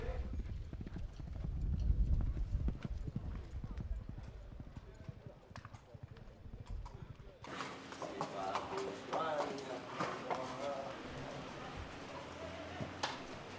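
Racehorses' hooves clip-clop in a steady walking rhythm on hard ground, fairly close, continuing throughout with some background chatter and ambient noise.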